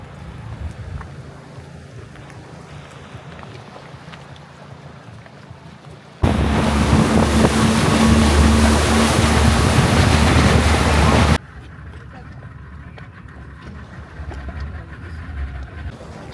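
A motorboat engine roars loudly for a few seconds amid wind and water noise at a Panama dock for boats to the San Blas islands, then cuts off abruptly, leaving quieter ambient sound.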